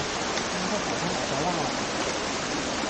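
A Thai waterfall at its foot, its murky water flowing in a loud, steady broadband rush that fills the whole stretch without a break.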